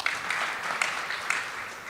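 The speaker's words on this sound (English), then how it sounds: "a big round of applause to Premier Bank" An audience at a Premier Bank Kenya event claps in steady, sustained applause for about two seconds, dense and moderately loud with no talking over it.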